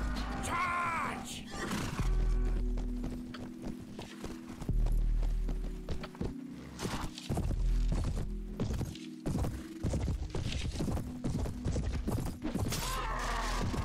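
Horses gallop in the medieval fantasy video game Prophesy of Pendor, a steady loud clatter of hooves with whinnies, clashing weapons and battle noise layered over it, continuing throughout.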